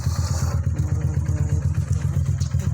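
A modified Yamaha YBR 125 motorcycle engine runs steadily close by, its low, rapid exhaust pulses loud and even throughout.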